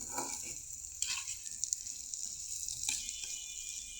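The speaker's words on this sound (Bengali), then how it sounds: "এখন হচ্ছে আমি ভেজে নিচ্ছি পটল আলু কাঁঠালি বিচি" Pointed gourd, potato and jackfruit seeds fry in a pan with a steady bright sizzle, broken by a few short stirring scrapes; no speech.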